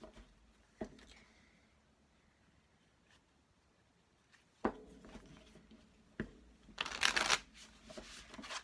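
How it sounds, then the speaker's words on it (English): A tarot card deck is shuffled in a few quick bursts, with sharp isolated riffle snaps and then a dense, louder flurry of card flutter near the end, close and alone. "Do quick few shuffles."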